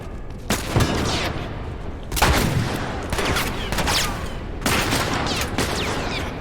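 Gunfire in The Last of Us on Grounded difficulty, in the dam section, comes as several loud, sharp shot bursts spaced apart with a steady rumbling game ambience between them.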